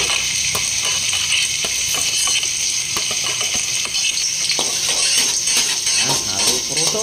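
Ginger and garlic sauté in a pan with a loud, steady sizzle while a utensil scrapes and clinks against the metal in repeated stirring strokes.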